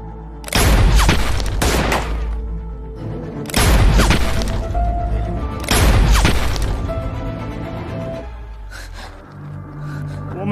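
Sniper gunfire in a Chinese action film, heavy booming shots in three big bursts a couple of seconds apart, each with a long rumbling tail, then quieter music-like tones between blasts.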